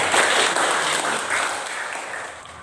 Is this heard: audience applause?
yes